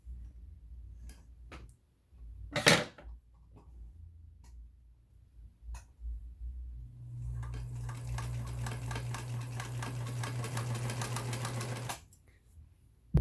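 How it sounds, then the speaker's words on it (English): Electra sewing machine running a straight stitch: after a few clicks and a clack, a steady buzzing, rapid needle chatter runs for about five seconds, then stops. "Okay, we're going to see a straight stitch first."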